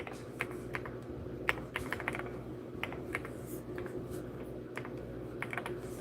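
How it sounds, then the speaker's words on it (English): Someone types quickly on a computer keyboard, making close, irregular bursts of clicking keys over a low background hum. "I'm typing names lively, reading in the chat"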